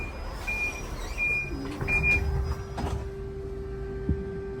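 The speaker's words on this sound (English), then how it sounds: "Press the button to close the doors." Doors of a driverless pod at Heathrow Airport slide shut, with two short electronic chimes, a steady motor whine and a faint clunk as they close inside the small vehicle.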